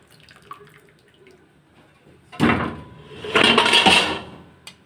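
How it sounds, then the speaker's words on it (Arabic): A metal pot lid drops in a kitchen and clatters loudly against the cookware and counter, with a sharp crash followed by a second burst of rattling, close by, after a quiet stretch. "يعني الغطا وقع"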